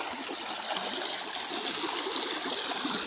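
River water flowing along a forested riverbank, a steady broadband rush with faint trickles, continuous and close throughout with no talk.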